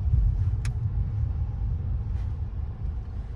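A car rolls slowly into a Sainsbury's car park in London, its low engine rumble steady and close, with a brief faint click partway through.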